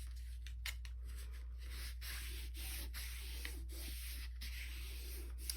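Paper from a clockwork-themed craft kit is folded over by hand, a close, quiet run of dry rubbing and creasing strokes with a few sharper crinkles.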